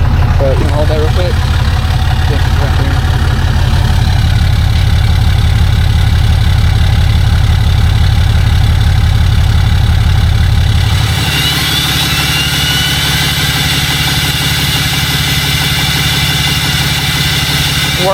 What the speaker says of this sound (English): If you hit the exhaust brake, the engine will warm up faster.